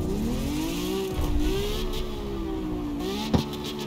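A Lamborghini Aventador S engine in a video game revs and settles, its pitch rising and falling in smooth sweeps at moderate loudness, with a brief sharp burst near the end.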